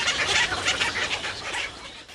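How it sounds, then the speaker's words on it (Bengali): Herons, storks, cormorants and nightjars call from nesting trees at a village homestead in Kasba, Brahmanbaria, a busy overlapping chatter of clucking, squawking birds, fairly near and continuous. "আর পাখির কিচিরমিচির শব্দে মুখর পুরো এলাকা"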